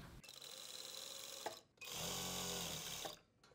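A sewing machine stitches a strip of dupatta fabric in two bursts, a shorter run then a louder, steadier one after a brief pause, with a whirring motor hum close by.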